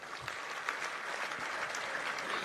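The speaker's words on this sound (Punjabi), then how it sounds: "ਬਾਪੂ ਦੇ ਨਾਂ ਤੇ ਤਾੜੀਆਂ ਲਾ ਦਿਓ ਯਾਰ ਇੱਕ" An audience applauds in honour of Bapu at a Punjabi public gathering of singers, with a dense, steady wash of clapping throughout, moderately distant and without talk over it.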